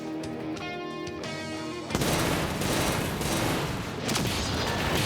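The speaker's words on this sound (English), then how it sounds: "Let's just do an aim shot here and see if we can take him out here." A burst of gunfire in the Kriegsfront Tactics video game cuts in after a couple of seconds of sustained tones and then roars on loudly and densely, like a rattling volley, until the end.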